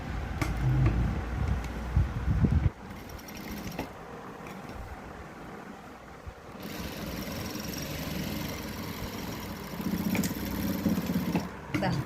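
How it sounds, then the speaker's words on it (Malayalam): A sewing machine stitches straight-bottom pant fabric with a loud, close, buzzing run at the start and again near the end. A quieter stretch in between carries faint handling sounds. "ഇവിടെ ഇത്രയും ഭാഗം കൂടെ നമുക്കൊന്ന് സ്റ്റിച്ച് ചെയ്ത് കൊടുക്കാം."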